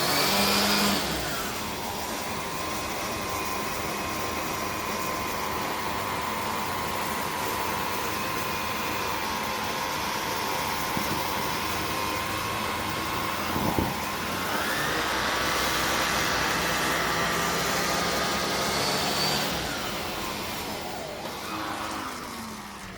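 A Numatic Henry HVR-200 vacuum cleaner with a turbo nozzle picks up potato flakes and dryer lint, its steady loud motor whine droning throughout, with brief shifts in pitch as debris is sucked in, no talking.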